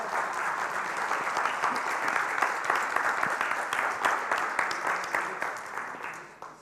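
An audience claps steadily and loudly at an Excel conference session, a dense, sustained round of applause that tapers off toward the end.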